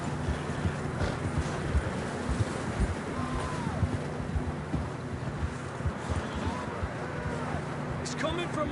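Horses walking with steady clip-clopping hooves on a trail in a Wild West video game, mid-distance under wind noise, with people talking over the hoofbeats.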